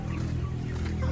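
A chicken clucks close by in a short burst of a few throaty notes over a low background rumble.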